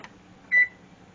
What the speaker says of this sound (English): we're going to put the timer on 45 minutes